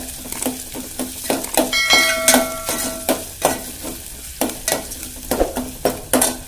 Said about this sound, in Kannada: ಹಸಿ ಶುಂಠಿ ಬೆಳ್ಳುಳ್ಳಿ ಪೇಸ್ಟ್ ಹಾಕಾಕತ್ತೇನೆ